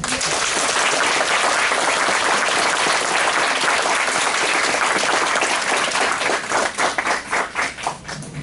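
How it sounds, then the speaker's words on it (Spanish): Audience applause at a conference on migration and human rights: dense, loud clapping from a crowd that holds steady, then thins into scattered individual claps toward the end. "pido un fuerte aplauso para nuestra distinguida maestra Elizabeth Natalie Rosa"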